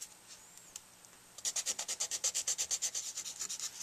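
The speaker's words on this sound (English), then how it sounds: "Okay, then we go to a coarse sandpaper. You can actually shape with this." A sax mouthpiece being shaped with coarse 220-grit sandpaper: after a few light scrapes, a close run of rapid, rhythmic back-and-forth rasping strokes, fairly quiet and alone.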